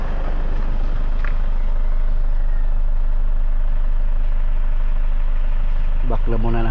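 A Toyota Fortuner being repaired for an EGR fault, its engine running with a steady close low rumble at the start of a road test, and someone speaking briefly near the end.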